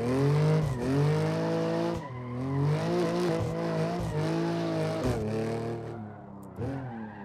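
A BMW M3 Competition G80 drifts with loud, sustained tire squeal over a droning engine. Repeated screeching passes and pitch shifts mark each slide as the car is thrown into the corners.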